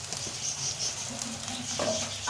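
Onion, garlic, ginger and cumin seeds sizzle steadily in a pan, with soft stirring scrapes over a continuous frying hiss.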